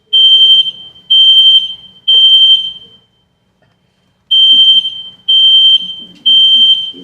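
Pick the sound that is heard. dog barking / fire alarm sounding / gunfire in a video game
fire alarm sounding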